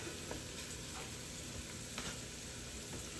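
Shallots frying in oil in a pan for a shellfish bisque, a continuous close sizzle with faint stirring scrapes, no talking.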